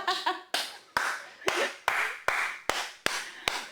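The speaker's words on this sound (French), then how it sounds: "pas 1, pas 2, mais 3 applaudissements" Sharp hand claps during a friendly interview, about eight evenly spaced smacks, each ringing out briefly in a reverberant room, following a short tonal sound at the start.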